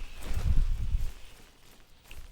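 A horse's hooves clip-clop in a video game, a few close thuds at the start that fade quickly over a couple of seconds.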